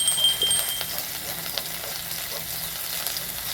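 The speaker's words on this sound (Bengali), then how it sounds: "ওই মাছ ভাজার তেলে দিয়ে দেবো কালো জিরে" Nigella seeds sizzling in hot oil left from frying fish, a continuous close, even crackle and hiss with small popping specks throughout.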